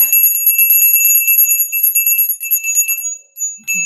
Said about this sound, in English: I'm going to ring the bell, so hold your ears.